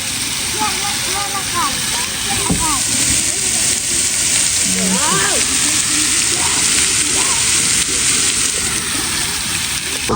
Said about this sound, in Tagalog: Malakas daw yung pressure ng tubig.